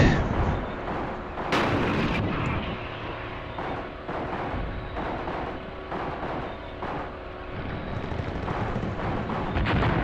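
Artillery fire in the war game Graviteam Tactics: dense rolling booms and thuds repeating throughout over a constant battlefield rumble, some blasts sharper and nearer than others, with no voices.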